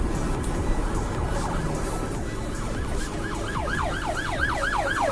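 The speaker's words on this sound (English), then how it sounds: "Police is coming." A police siren wails through stuck traffic from inside a car, rising and falling in steady, repeating sweeps that grow louder and clearer over a constant road rumble.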